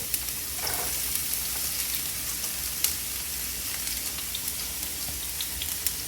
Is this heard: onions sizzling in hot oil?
yes